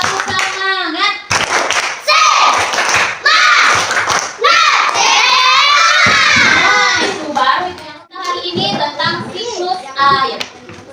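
A fourth-grade class of children in an Indonesian classroom claps in unison and chants "Tepuk semangat" together, loud bursts of rhythmic clapping mixed with shouted group voices and a teacher's speech.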